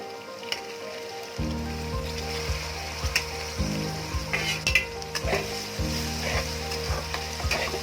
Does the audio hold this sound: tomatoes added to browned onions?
yes